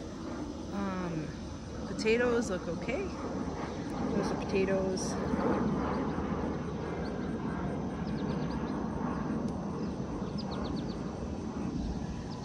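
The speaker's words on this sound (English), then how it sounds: "Why are there so many planes again?" Airplanes pass overhead in a steady, broad engine drone through an outdoor garden scene, with birds chirping nearby and a person talking over the hum.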